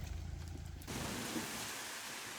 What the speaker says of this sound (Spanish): Ay, se viene la lluvia de vuelta.